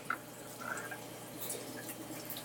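Filtered water from a RODI reverse-osmosis system drips and trickles out in a quiet, uneven patter, faint and close by.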